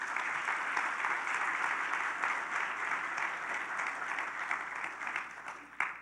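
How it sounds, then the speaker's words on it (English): Audience applause for conference panelists at a workforce event, a dense, steady wash of many hands clapping that holds for the full stretch before thinning slightly at the end. "Can we please give our panelists a round of applause?"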